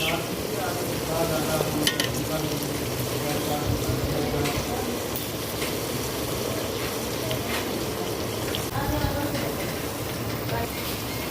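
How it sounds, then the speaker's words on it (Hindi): Okra (bhindi) frying in a pan for a spiced dish, a loud continuous sizzle with stirring scrapes, heard throughout. "भिंडी हमारी फ्राई हो रही है।"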